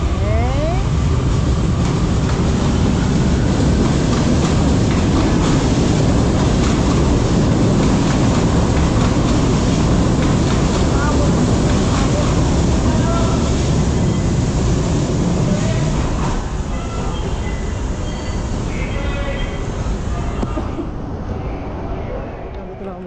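A train rumbles past loudly and steadily for the whole stretch, with clattering wheels and a noisy metallic roar that eases slightly near the end.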